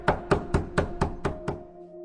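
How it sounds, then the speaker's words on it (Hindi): Seven hard, rapid knocks on a door in a quick, uneven burst, close and loud, ending abruptly as a horror story sound effect. "उसके इतना कहते ही खटखटाने की आवाज़ बदल गई।"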